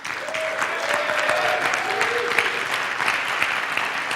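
An audience claps steadily and loudly for several seconds in a dense, continuous burst of applause, with a faint voice briefly audible underneath.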